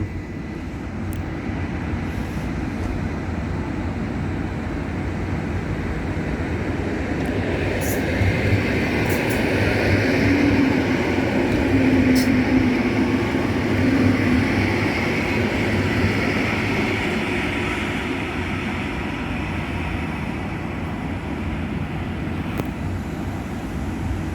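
A train rumbles steadily past close by at a Polish railway line near Toruń, a loud continuous roll of wheels and carriages that swells in the middle, with faint squeals and clicks from the track throughout.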